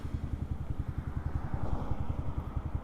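A Yamaha Sniper 155R motorcycle with 35,000 km on the odometer idling close by, a steady rapid pulsing engine beat with a light mechanical clatter.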